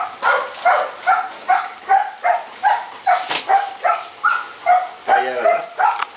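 A female dog on a farm barking repeatedly in a steady rhythm of sharp, close, loud barks, with a few whimpering yips mixed in.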